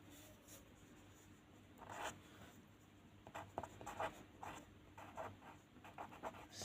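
A pen scratches across paper close by while math working is written out in a quiet room, a soft continuous scribble of short strokes with brief pauses.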